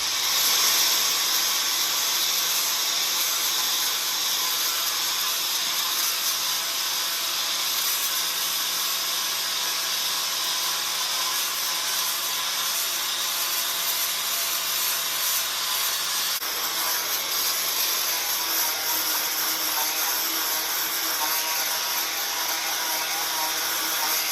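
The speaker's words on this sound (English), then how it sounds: "I'm going to start with my 36 grit flap wheel and just get this thing roughed in the shape of it." A 36 grit flap wheel on a grinder roughs in the shape of a repaired cracked car dashboard, producing a continuous abrasive whirring hiss that holds steady for over twenty seconds, with a slight change in tone partway through.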